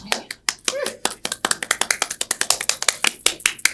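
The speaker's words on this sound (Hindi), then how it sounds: "ताली पीट रहे हैं" Quick, irregular hand claps from a few people in a comic domestic scene, sharp and close, speeding into a rapid rhythmic patter, with voices exclaiming between and over them.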